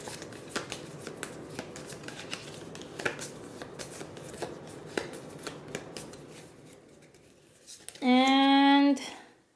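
A deck of room cards for the board game Dungeon Twister is shuffled, giving a steady run of soft, close papery flicks and clicks, followed by a brief loud tonal beep near the end.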